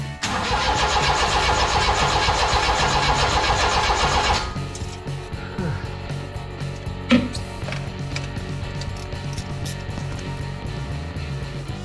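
A U42T MiniCab with a no-spark fault cranks with a rapid, rhythmic starter churn for about four seconds without catching, then stops, leaving faint clicks and a single knock.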